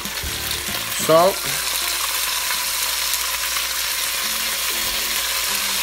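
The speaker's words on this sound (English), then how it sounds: "Then we're going to cook that down so it's brown on all sides." Beef browning for stew in a pot, a steady loud sizzle throughout with a few scrapes and stirs, while someone talks over it.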